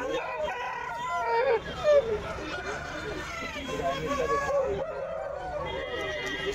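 A rooster crows among other fowl at an Aseel chicken market, its call rising over steady background chatter and farmyard noise.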